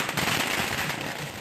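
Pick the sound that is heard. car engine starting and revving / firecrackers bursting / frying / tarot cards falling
firecrackers bursting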